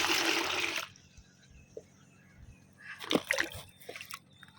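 Water mixed with soaked manure and bio-fertilizer is poured onto a jasmine plant, starting with a loud rushing splash that cuts off, then quieter sloshes and splashes follow a few seconds later.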